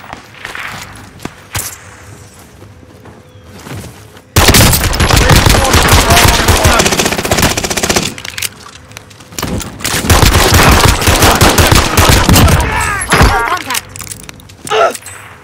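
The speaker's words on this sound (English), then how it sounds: "Taking fire!" Gunfire in Call of Duty Warzone Resurgence on Caldera: loud, sustained machine-gun bursts and rapid shots at close range, split by short pauses, with quieter game ambience and a voice before and between the volleys.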